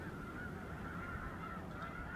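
Snow geese honk continuously from a distance, a faint, overlapping chorus of calls with no talk over it.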